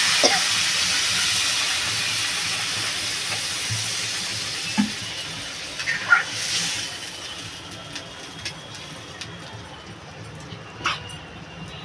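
Water poured into a pan of potato and cauliflower curry with fish: a steady loud hiss and sizzle that gradually fades, with a few faint clinks near the end.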